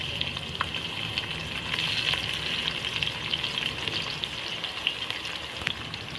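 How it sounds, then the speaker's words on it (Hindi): Onions sizzling and frying in about one and a half cups of hot oil in a pot for beef nihari, a steady close crackling hiss with small pops throughout. "जैसे ऑयल गर्म होगा हम इसके अंदर ये प्याज ऐड कर देंगे।"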